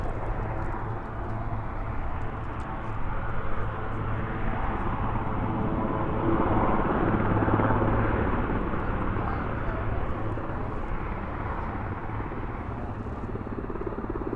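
Marine One helicopter lifting off at the White House produces a loud, sustained rotor and engine roar that swells midway, heard from nearby with faint crowd sounds underneath.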